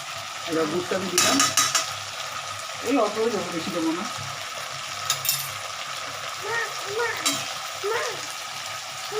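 Fish frying in a pan on a home kitchen stove, a steady sizzle and crackle running the whole time with scraping stirs, while someone talks over it in bursts.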